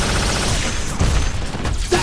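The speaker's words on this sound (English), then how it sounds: "Proton cannon." A proton cannon super attack from Marvel vs Capcom, heard as a sustained loud roaring blast of arcade weapon noise with dense crackling bursts running throughout.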